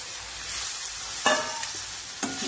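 Chapati pieces, ground fine in a mixer, are stirred around a hot pan with a steady soft scraping sizzle and a few sharper clinks of the spoon against the pan, close by.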